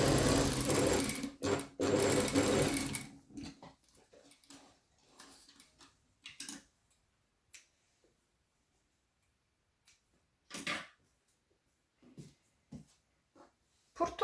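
A sewing machine stitches a patch pocket in a short fast whirring burst at the start, then stops; sparse clicks and handling taps follow as the needle is set at the corner and the fabric turned.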